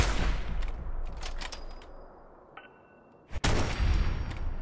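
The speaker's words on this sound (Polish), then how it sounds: "strzały z Waca są dosyć efektowne graficznie" Gunfire rings out in Fallout 4 during VATS slow-motion targeting, a burst of sharp shots and metallic pings, then a lull and a loud blast followed by booming impacts.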